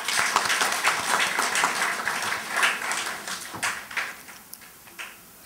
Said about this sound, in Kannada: ಅವರಿಗೆ ನಾವೆಲ್ಲ ಜೊತೆ ಸೇರಿ ಒಂದು ಚಪ್ಪಾಳೆ ಹೊಡಿದ್ರೆ ಸರ್